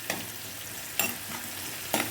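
Garlic, shallots, ginger and green chillies saute in hot oil in a clay pot for a kannimeen fish curry, giving a soft, steady sizzle broken by a few short stirring scrapes, quiet and with no voices.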